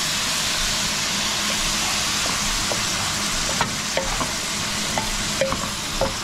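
Tomato, onion, garlic and pork sauté in a hot pan with a loud, continuous sizzle, while a utensil scrapes and taps against the pan in irregular strokes as the mixture is stirred.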